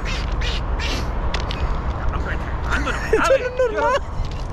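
Turkeys gobble and squawk in a rapid burst, loud and close, while someone speaks briefly in Spanish over outdoor noise near an abandoned railway.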